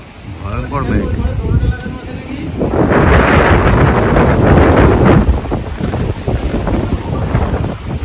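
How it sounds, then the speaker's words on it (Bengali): Strong storm wind in a rural village buffets the microphone with loud, roaring gusts that build and persist; a voice is briefly heard at the start. "কিরে সানা কেমন ঝড় হয়?"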